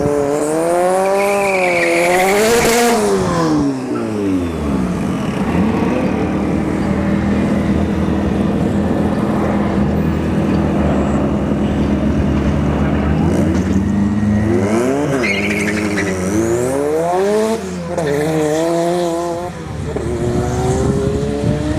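A turbocharged single-cam Honda CRX revs hard and accelerates down a drag strip at a test-and-tune event, loud rising and falling engine pitches with a second climb later, under faint crowd and announcer voices.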